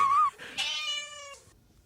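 A domestic cat lets out a couple of short, close meows, a brief rising call followed by a longer drawn-out one, heard alone in a quiet room.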